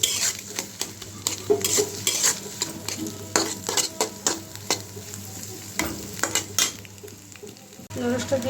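Noodles and salt tossed into a pan and stirred, with a low sizzle beneath repeated scraping and clinking of a utensil against the pan, close and fairly quiet, with no voices.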